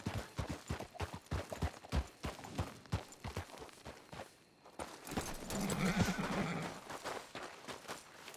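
Video game horse heard from the ground: a steady run of clip-clop hoof steps, then a loud, drawn-out whinny, with no talking over it.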